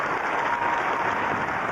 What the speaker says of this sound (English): Huge applause as Clodhopper finally crosses the line to take the bronze medal.